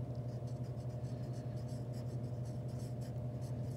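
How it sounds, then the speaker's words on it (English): A pen or pencil writing on paper for a math packet, making a soft, continuous scratching with quick strokes. It is close but faint under a low steady hum, with no talking. "Write that at the bottom for you guys."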